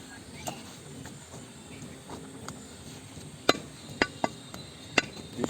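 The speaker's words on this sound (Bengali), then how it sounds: "আমি এখন গোশ কাটছি" Mutton is cut at a Bangladesh market, a few sharp chopping knocks standing out in the last couple of seconds over a low bustling market background.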